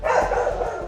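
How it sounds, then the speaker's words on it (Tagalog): An American Bully dog barks in a short, muffled burst of a few rough barks, fairly close, with no talking over it. "Nandun, yung tumatahol"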